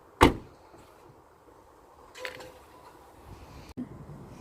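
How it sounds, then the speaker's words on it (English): Car door swinging shut, beginning with one sharp, loud slam, followed by quieter handling clunks and a brief click later in a calm car interior. "close the door."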